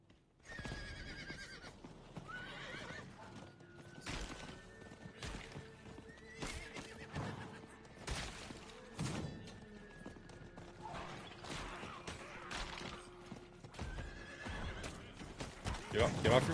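A horse in Diablo 4 neighs and its hooves clop intermittently across the stretch, with a sustained tonal hum and occasional sharp clatters.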